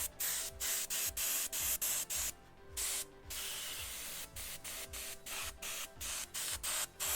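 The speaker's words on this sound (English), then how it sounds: "Sometimes when my gun sticks too, I pull back the handle at the tip and get all the paint to come out faster and clears the channel." A paint spray gun sprays paint onto a custom hoodie in close, loud hissing bursts. The bursts come in a rapid, uneven stutter, with short gaps and a couple of longer pauses, and no talking.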